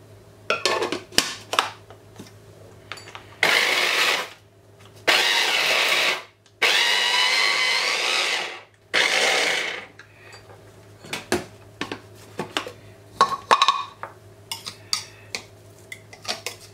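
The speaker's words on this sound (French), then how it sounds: "Nous allons mixer une première fois à sec tous les ingrédients" Several loud bursts of a blender grinding dry spices and herbs into a paste for a duck breast dish, each run lasting one to three seconds, separated by clinks of utensils and bowls.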